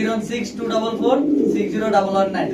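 Soft, repeated cooing of red Lahori pigeons in a loft overlaps in a steady murmur, with several birds calling close by.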